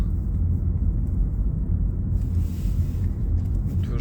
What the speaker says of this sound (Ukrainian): я їду по новому асфальті